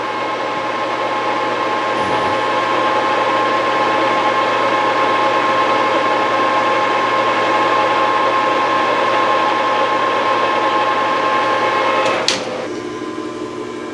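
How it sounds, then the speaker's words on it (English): A metal lathe turns a replacement shaft for a farm implement, giving a loud, steady mechanical drone with a constant tone, then a single sharp knock near the end, after which the running sound settles slightly quieter. "I saw the lathe moving."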